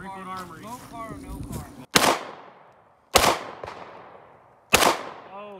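Three sharp, loud gunshots from a Hellcat pistol fired at a pineapple impaled on a metal rod, each crack ringing out and decaying over about a second, evenly spaced after a stretch of people talking outdoors.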